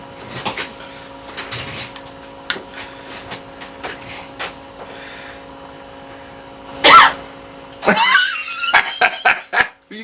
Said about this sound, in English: You coughed.